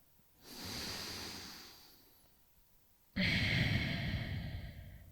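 A person breathes slowly in and out through the nose while holding a hip-flexibility yoga stretch: a long airy exhale, a quiet pause, then a louder, closer rushing breath.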